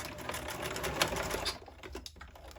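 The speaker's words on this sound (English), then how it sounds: "And then I will back stitch at the end." Sewing machine back stitching at the end of a seam: a rapid, steady mechanical chatter close up, slowing and breaking off briefly near the end, with no talking.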